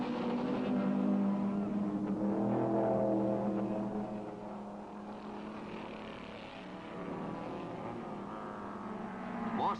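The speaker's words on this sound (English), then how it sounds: "Roger Penske in the red Cooper takes the lead" 1962 Cooper and Lotus racing cars at Mosport roar past at a distance, a droning engine note rising and fading in a muffled, noisy old recording.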